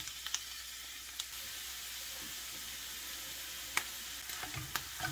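Ground meat mix frying in a pan for cheeseburger spring rolls, a steady soft sizzle with a few brief clicks and scrapes of stirring as the meat is broken up.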